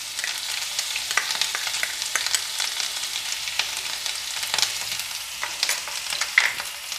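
Garlic paste sizzles in hot oil for a dhaba-style dal fry, a constant crackling hiss broken by scattered sharp pops and stirring scrapes, close and moderately loud, with no voices.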